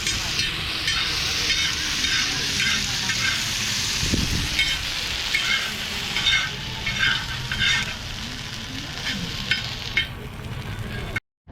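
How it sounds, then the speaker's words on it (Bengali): Egg chicken momos deep frying at a street food stall, a steady loud sizzle and bubbling of hot oil running throughout with brief clatters, no talk. "আমাদের ফ্রাইড একদম ডিপ ফ্রাই করে দিও।"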